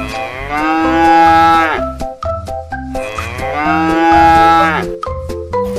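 A long-horned cow moos twice, loud and close, each call a long drawn-out bellow tapering off, with livestock shuffling and clatter between the calls.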